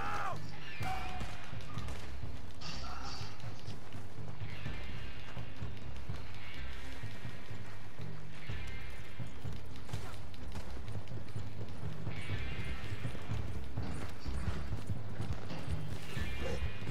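Horse hooves gallop in a rhythmic, continuous clip-clop beneath game music and ambience in the Red Dead Online video game on PS4, steady throughout with no talk.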